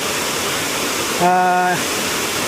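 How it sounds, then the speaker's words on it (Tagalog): Daranak Falls, swollen in the rainy season, roars as a steady broadband rush of falling water, close and loud, with a brief tonal sound cutting through midway. "Tapos ito na yung pinaka main na falls ng Daranac"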